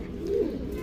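A single soft, low coo from a male Nagina Tambral flying pigeon, close by and brief, over faint background noise.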